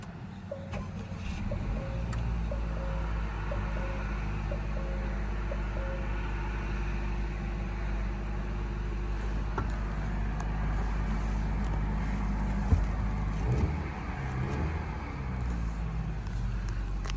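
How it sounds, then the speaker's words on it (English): A 2021 Acura RDX SH-AWD Advance idles quietly and steadily after a push-button start, a low, even engine hum with faint mechanical ticks and no talking. "Press the engine start button here in the dash to start the engine."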